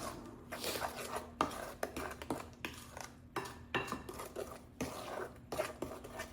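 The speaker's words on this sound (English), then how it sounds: "And we mix all that in." A spoon stirring banana muffin batter in a bowl, giving steady wet scraping and clinking that comes in repeated bursts, close and fairly quiet, with no voices.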